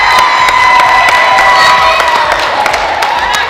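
A school crowd at an education foundation grant awards event claps and cheers loudly, with high whoops and children's shouts riding over sustained applause, close and energetic throughout.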